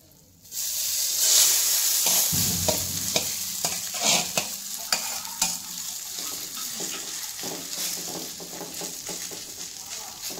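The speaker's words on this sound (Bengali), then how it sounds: "এখন আমি এটার মধ্যে মুড়িগুলো ঢেলে দেবো" Puffed rice is poured into a little hot oil in a pan and stirred, a sudden loud hiss that settles into a continuous sizzle with repeated scraping and tapping strokes close by.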